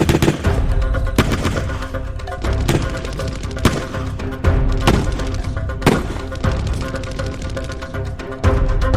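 Gunfire sound effect from a Bonnie and Clyde shootout with police: repeated loud, sharp bursts of shots over a dense, steady rumble, continuous throughout with no talking.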